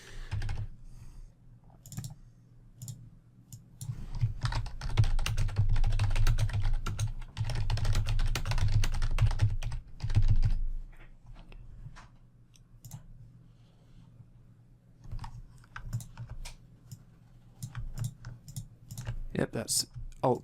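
Computer keyboard typing and mouse clicking at an editing workstation: soft, irregular key taps and clicks continue throughout, partly under a low hum and background noise, with louder rumbling in the middle stretch.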